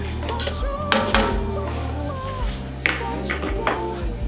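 Food being stirred and spread across a skillet, with clattering utensil knocks and scrapes against the pan, close and fairly loud, mixed with a person talking.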